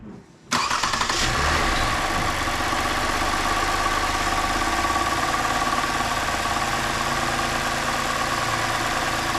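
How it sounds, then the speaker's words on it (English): A 2017 Lexus RX350 engine cranks and catches after a brief quiet moment, then settles into a steady, loud idle that hums on evenly for several seconds. "I'm just starting the car."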